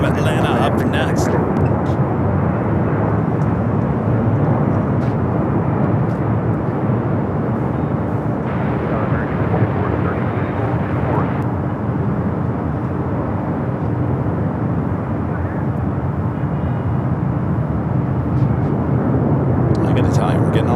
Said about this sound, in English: the Delta 767 to 300ER, the flight coming from Atlanta up next